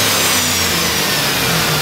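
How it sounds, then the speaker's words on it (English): A 2009 Chevy Silverado 1500 with a 5.3-liter V8 and automatic four-wheel drive runs steadily, a close, loud, even engine drone with no voices. "This engine does run great."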